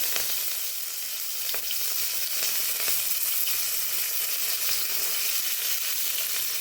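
Cumin seeds and curry leaves sizzle steadily in hot tempering oil for a tomato coconut chutney, a continuous close crackling hiss with scattered sharp pops throughout.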